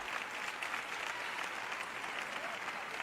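A congregation at a sermon applauds steadily, a dense even wash of many hands clapping throughout with faint crowd noise beneath.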